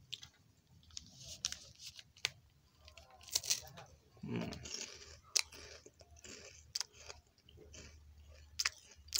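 Crunchy Willie chocolate wafer being chewed up close, with sharp crisp bites and repeated crunches in an irregular rhythm, quiet between bursts, plus a brief murmur.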